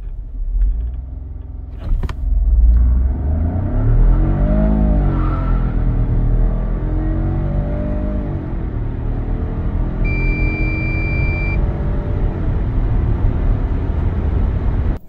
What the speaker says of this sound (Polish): auto traciło nieco na przyczepności